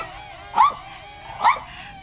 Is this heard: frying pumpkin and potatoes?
no